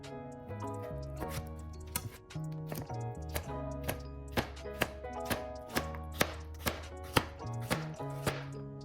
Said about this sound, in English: Now you want to peel your carrot and chop it up into chunks that are about 1/3 of an inch thick.